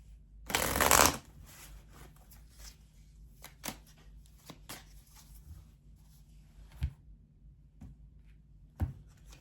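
A deck of oracle cards is riffled in one loud burst for a tarot reading, followed by quiet, sparse taps and soft card clicks in a calm room.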